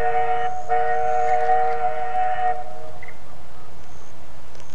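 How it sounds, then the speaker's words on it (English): A passing train sounds a steady multi-tone horn at the Brixton Street railway level crossing, loud for about two seconds then cutting off, leaving quiet rumble and a few faint distant tones. "There's the sound of the Brixton street level crossing."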